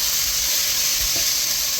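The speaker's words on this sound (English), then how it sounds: "we'll uncover our potatoes and you can hear all the sizzling going on" Potatoes frying in a pan, just uncovered, give off a steady, dense sizzle that fills the whole span, loud and close, with a faint stir or clink partway through and no talking.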